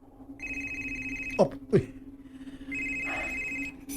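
A cellphone rings in steady electronic bursts, one tone at the start and another near the end, with a short spoken exclamation between them.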